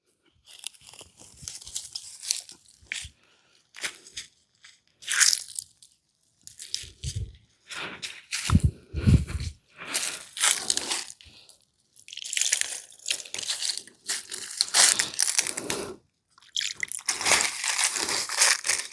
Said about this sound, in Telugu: ఇప్పుడు మనం అటుకులు కూడా కడుగుదామండి